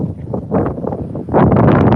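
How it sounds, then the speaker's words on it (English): Loud, steady wind roars across the microphone at the Starbase launch site, a dense rumbling buffet that swells stronger toward the end, with no voices. "the wind is really loud"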